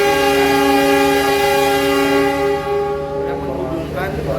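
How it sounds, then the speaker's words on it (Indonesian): A KRL commuter train pulls away from platform 5 at Bekasi station, its loud sustained horn-like tone ringing with strong harmonics before easing into rumbling station noise as it departs. "Dan di sini ada kereta KRL berangkat dari jalur 5."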